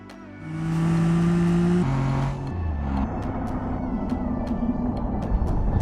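An Ibishu Claira with a fitted roll cage in the video game BeamNG.drive, its engine droning loudly and shifting pitch as it drives into the banking, followed by sharp clattering impacts and debris.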